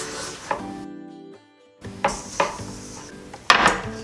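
Cookie dough being mixed in a bowl as dry ingredients are worked in, a series of scraping knocks and clatters of utensil against bowl with a brief quiet pause midway, close and fairly loud, no talking.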